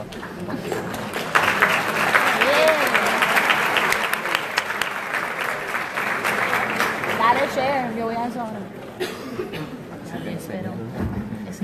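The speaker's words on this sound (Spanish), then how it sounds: "Muchas gracias por ese aplauso." A university forum audience applauds steadily, swelling after a second and tapering near the end, with voices, light laughter and a speaker emerging as the clapping fades.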